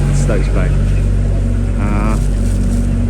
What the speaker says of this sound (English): A little bit noisy at the moment because I've got this engine bay open.